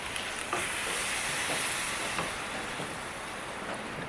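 Kadai mushroom gravy with water added, simmering in a pan over a medium flame, giving a steady, hissing, bubbling sizzle at close range with a few faint clicks and no voices.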